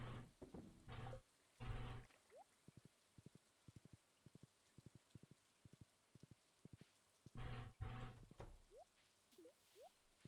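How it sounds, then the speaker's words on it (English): Rain falls on a farm in the Stardew Valley video game. A soft, faint patter runs underneath while game sound effects play over it: quick rhythmic ticking steps and a few louder bursts of chimes near the start and end. "Oh, it is raining, so none of my animals will be outside."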